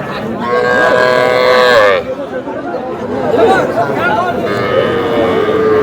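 Cattle bellow loudly at a busy livestock market in Feni, where small bulls and heifer calves are being sold, with one long low moo followed by further lowing amid crowd chatter and bargaining voices.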